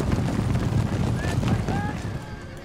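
Cavalry horses whinnying on an Empire: Total War battlefield, a couple of short high neighs over a dense rumble of hooves and battle noise, with a voice speaking.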